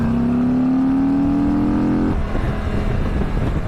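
A 2023 Harley-Davidson Street Glide 120th anniversary edition launches hard, its loud engine note rising steadily through the revs before a gear change and continued pull, close up with no talking.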